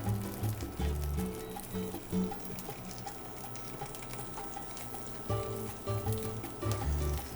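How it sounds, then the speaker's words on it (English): Red snapper skin sizzles and crackles steadily skin side down in a hot pan, a constant frying hiss with low clattering bumps underneath. "And I will put this skin side down. And you hear it sizzling."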